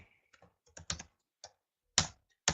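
Code is typed on a computer keyboard in sparse, uneven keystrokes, close and crisp, with a few louder isolated key hits and quiet gaps between them.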